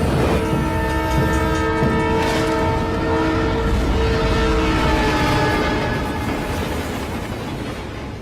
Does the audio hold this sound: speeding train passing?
yes